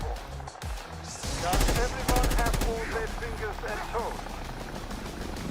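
Rapid automatic gunfire from the D1.3 Sector weapon in the video game Black Ops 6, loud bursts of closely spaced shots over game ambience, with a voice talking in the background.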